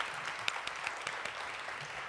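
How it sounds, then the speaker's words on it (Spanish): Applause from an audience at a women's forum, moderate and fairly distant, a steady patter of many hands with a few sharper claps standing out, continuing for about two seconds without talk. "Le damos un aplauso."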